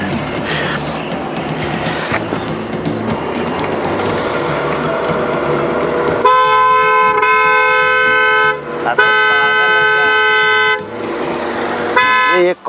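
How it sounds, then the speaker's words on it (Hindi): A car horn blares in several long, loud honks over busy street noise, starting after a stretch of traffic rumble and separated by brief breaks. "तुझे सुनाई नहीं दे रहा क्या? कब से हॉर्न दे रही हूँ?"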